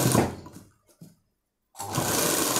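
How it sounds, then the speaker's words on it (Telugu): Sewing machine stitching a frock at a tailor's, a steady loud mechanical whirr that runs, pauses briefly into near silence with a couple of short bursts, then starts up again. "ఇప్పుడు మనం పై భాగం నుంచి కుట్టాలి మనం, ఉల్టా నుంచి కుట్టాలి మనం."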